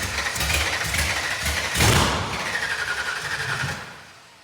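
A Shelby Daytona engine, run for the first time in years, chugs and stumbles with uneven pulses, surges once, then settles into a rough idle before fading out, heard close with no talk.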